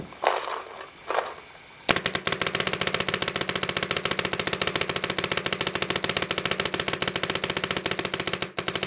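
An Ego 10 paintball marker on an NPPL field fires a long, loud, rapid string of shots, a steady mechanical rattle running about seven seconds after a couple of brief softer sounds at the start.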